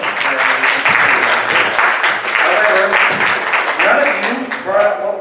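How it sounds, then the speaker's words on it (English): A group claps enthusiastically for several seconds, with voices and cheers mixed into the applause. "Okay, so I will applaud that answer."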